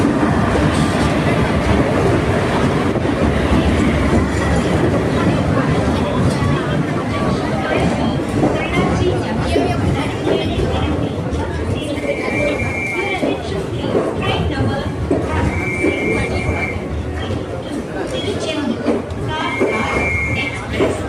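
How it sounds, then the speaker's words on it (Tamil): A passenger train with a diesel engine rumbles past steadily and loud on the rails, with continuous rolling clatter and a few brief high squeals, while people talk over it. "காலையில் வந்து பேசஞ்சர் ட்ரெயின் நிற்குது பார்."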